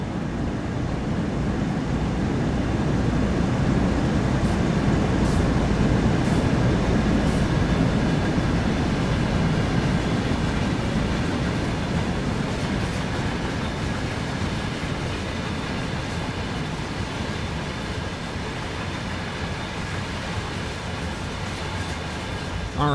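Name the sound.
train rolling on rails, video game Train Sim World 5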